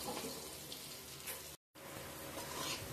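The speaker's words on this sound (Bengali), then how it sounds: "ভালো করে আমি আলুগুলোকে ভেজে নেব।" Potatoes seasoned with salt and turmeric fry in hot oil in a pan, giving a steady close sizzle that drops out briefly before crackling on.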